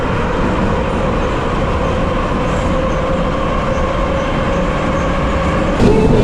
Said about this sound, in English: So we're on the subway now.